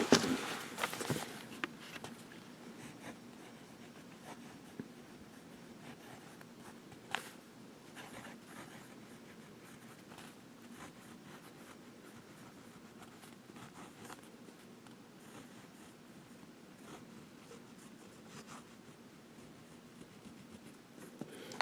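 Platignum fountain pen with a medium nib writing on thin Tomoe River paper, a soft continuous scratching with small pen-lift ticks, close and quiet, with a few sharper handling taps near the start.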